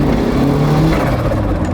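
Car engine held at high revs under launch control, a loud, close, sustained droning growl that stays steady for the whole moment without voices.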